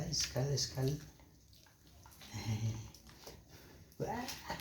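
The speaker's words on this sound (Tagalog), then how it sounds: "may aso din kami" A dog growls and whines in short bursts close by, with people talking over and between the noises.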